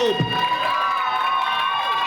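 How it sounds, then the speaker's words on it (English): An audience at a university sports awards night cheers and applauds, loud crowd whoops and shouts carrying over clapping for about two seconds. "round of applause for Bradford City Football Club."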